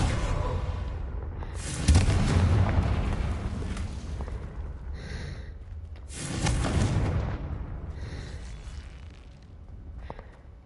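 Confringo fire spell cast in Hogwarts Legacy, two booming explosive bursts a few seconds apart with crackling fiery tails that fade out, amid quieter game ambience.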